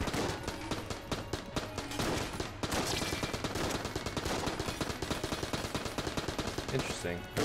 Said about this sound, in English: Once again, those sped up bullets.